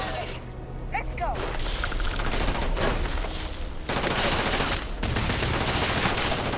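Rapid volleys of gunfire in the sci-fi game Starfield, loud, dense bursts and sustained crackling fusillades that fill the scene with only brief lulls between.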